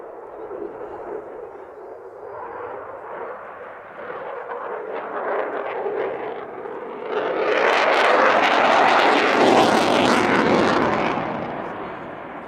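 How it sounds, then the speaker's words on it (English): A Eurofighter Typhoon jet flying a solo display at the Cosford Airshow, its engine roar building from a steady rumble into a loud, broad surging blast before easing off. "following the break, the Typhoon launches into its solo routine flown this year by Flight Lieutenant Adam O'Hare"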